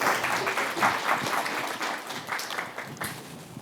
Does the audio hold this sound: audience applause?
yes